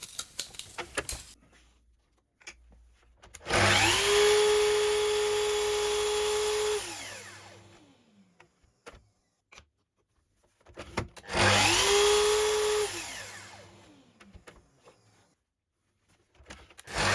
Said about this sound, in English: Cutting small pieces with a chop saw or miter saw was surprisingly challenging.